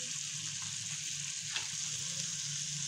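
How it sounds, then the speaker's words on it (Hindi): Mutton liver fries in a pan with red chilli powder and turmeric, giving a steady, close hiss and sizzle with faint stirring and no talk. "हम लोग अपनी कलेजी को भून लेंगे"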